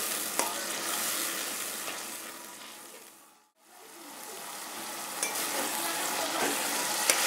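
Spice paste sautéing with fish in a pan, a steady close sizzle with stirring scrapes, broken briefly by a short lull midway before the frying noise returns at the same level.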